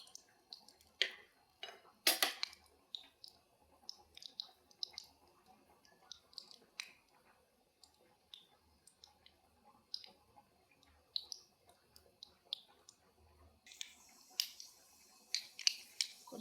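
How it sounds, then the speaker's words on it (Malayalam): Mustard seeds pop and splutter in a hot pan, scattered sharp crackles at irregular intervals, quiet between bursts and busier toward the end. "ചട്ടി വെച്ചു കടുവറക്കാം എന്നിട്ട് കുറച്ച് കറി കടുകിട്ട് കൊടുക്കാം"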